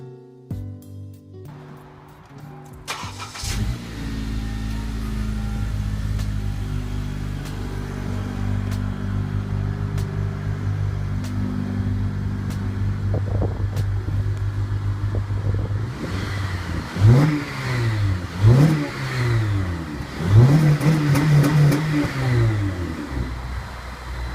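A Honda Civic Si (FG4/FB6) with stock exhaust idles steadily, then revs up several times in quick succession near the end, each rise and fall of the engine loud and close.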